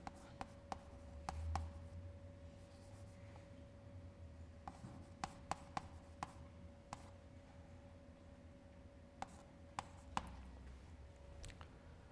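Marker or chalk writing out a sketch on a board during a math lecture on oscillatory multiplier estimates, heard as scattered faint taps and scratchy strokes in an otherwise quiet room with a steady low hum.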